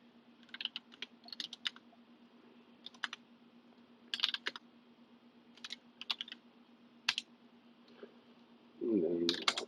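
Bursts of computer keyboard typing and clicks while SSH keys are cut and pasted onto a server, in short irregular clusters over a steady low hum, ending in a brief louder rustle.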